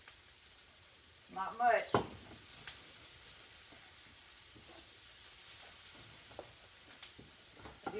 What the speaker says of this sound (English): So we'll just kind of fry those up together.